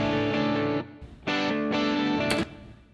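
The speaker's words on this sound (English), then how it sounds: "You can hear that reverb." Two distorted electric guitars run through a room reverb plugin play loud sustained chords broken by short stops, a brief reverb tail ringing into each gap.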